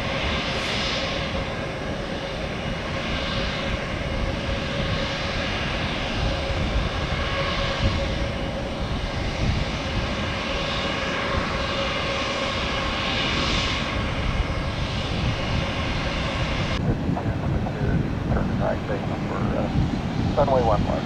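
A UPS MD-11 jet lands at Baltimore-Washington International, its engines a sustained loud roar with a changing whine that shifts late on, heard from a nearby aircraft cabin with a voice talking over it.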